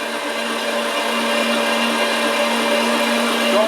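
An electric meat grinder running steadily while grinding venison for summer sausage, a loud continuous motor whine with a constant hum and no pauses.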